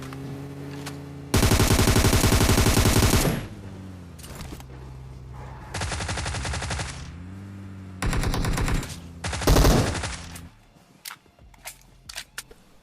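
Tommy gun bursts in the PUBG Mobile shooter game, several loud rapid-fire volleys of varying length separated by short pauses, ending in a few scattered single shots, with no talking.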